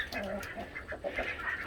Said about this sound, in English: That's our Pekin duck.